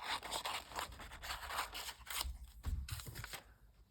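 Scissors snip through stamped paper pieces in a quick run of close, crisp cuts and rustling paper scrapes, quiet and without talk.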